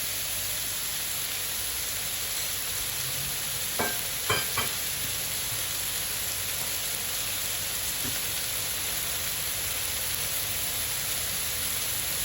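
Chicken frying on a griddle for Philly sandwiches, heard as a soft, continuous hiss with a few faint clicks and taps partway through.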